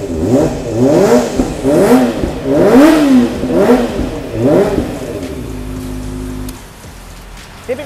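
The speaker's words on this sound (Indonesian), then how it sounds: "Tipikal khasnya Jatek 25 yang nyaring tapi smooth dan RPM-nya di atas." A Kawasaki ZX-25R with an Aero full-system exhaust revving hard: five rising-and-falling throttle blips in a steady rhythm, loud and close, then the engine settles into a smooth high idle that drops lower near the end.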